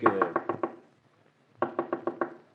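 Two quick bursts of sharp wooden knocking, each about five rapid taps, separated by a brief silence; close and clear.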